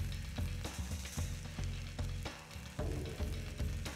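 Pork chops sizzle directly on glowing embers, caveman-style grilling, a close, steady crackling hiss punctuated by sharp pops and snaps, with no talking.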